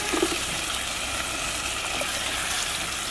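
Water gushes steadily as it is poured into a cauldron of chicken stew while cooking, a continuous close rushing pour with no speech.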